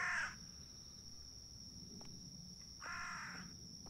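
A crow caws in the horror video game The Bathhouse (地獄銭湯): two harsh, fairly faint calls, one at the start and one near the end, over a quiet ambient hum.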